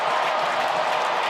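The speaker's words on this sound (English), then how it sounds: "this crowd here in Washington, D.C. has erupted" A basketball arena crowd in Washington, D.C. roars and cheers after a final two-handed dunk seals a Duke win over Michigan, forming a dense, loud, continuous wall of noise with no gaps.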